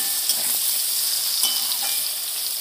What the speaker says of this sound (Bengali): এবারে নেড়ে চেড়ে ভালো করে বেগুনগুলোকে ভেজে নেব